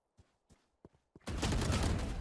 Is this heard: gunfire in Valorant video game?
yes